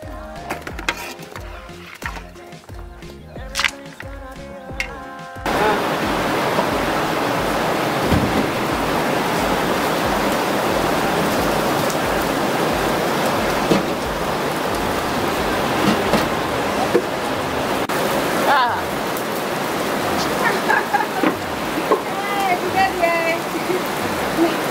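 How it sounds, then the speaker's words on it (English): Rain in the Ghanaian countryside: after a few seconds of quieter background with some voices, a steady loud hiss of falling rain begins abruptly and continues throughout, with a few scattered sounds over it. "Suddenly the rain just started falling."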